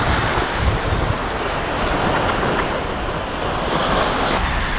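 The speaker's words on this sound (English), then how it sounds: "that's the way the waves and wind are coming today." Rough ocean surf and strong wind at a beach roar continuously and loudly, wind buffeting the microphone over a dense wash of breaking waves, with no voices.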